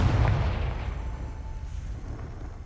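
Confringo fire-blasting spell exploding in Hogwarts Legacy, one loud, deep boom at the start that rumbles and decays over a couple of seconds, close and alone with no talking.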